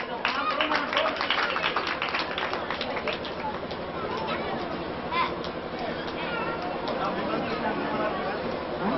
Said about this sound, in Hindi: ताली इसलिए बजनी चाहिए